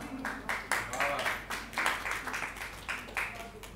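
Audience applause at a live Urdu storytelling performance, scattered claps rising and falling in repeated bursts, moderately near, with a murmur of voices underneath.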